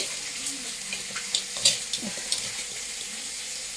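Fish fries in a pan with a soft, steady sizzle. Scattered pops and light clinks of a utensil occur, and there is no talking.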